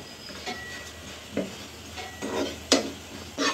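Oats dry-roasting in a pan for an oats-and-banana breakfast, stirred with a utensil: soft scraping and a faint sizzle, broken by a few brief, sharp scrapes of the spoon against the pan.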